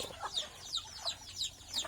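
Backyard chickens on a small organic farm cluck in a steady series of short, bright calls repeating about every third of a second, moderately close with no talk.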